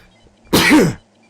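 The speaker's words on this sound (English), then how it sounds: "I'm about to sneeze." One loud, close sneeze bursts out suddenly, a harsh, breathy blast lasting about half a second, then stops in a quiet room.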